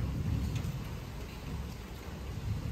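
Steady rain falls throughout, a dense continuous hiss of drops with a low rumble underneath, fairly close and uniform, with no voices.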